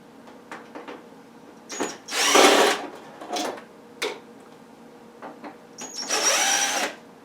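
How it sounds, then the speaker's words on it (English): Electric screwdriver backing screws out of a Samsung TV, short whirring bursts of varying length separated by pauses, close and clear with no voices. "since I'm not torquing them down, I'm just removing them, I'm going to use an electric screwdriver"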